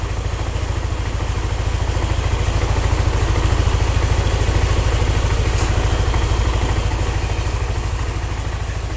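Motorcycle engine idling smoothly after an oil change with a Prima XP, Bimoli, Shaeffer Moly EP and nano energizer oil mix drained: a steady, even low rumble with fast regular pulses, close and loud, without talk.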